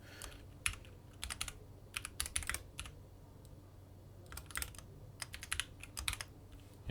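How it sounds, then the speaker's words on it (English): Keys on a computer keyboard are pressed in quick irregular clusters of clicks, including repeated taps of the tab key, close but quiet over a low steady background hum. "Keep hitting tab."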